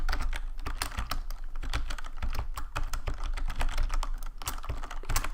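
Steady rapid computer keyboard typing, close and crisp, as someone writes VBA code in Excel; dense irregular keystrokes run throughout with no talking.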